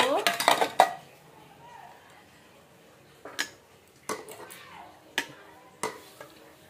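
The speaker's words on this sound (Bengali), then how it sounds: "এখন আমি ভাত বাড়বো" Rice being served from a pot onto a plate, with a quick burst of clinking at the start, then a few sparse, quiet scrapes and knocks of a utensil against metal.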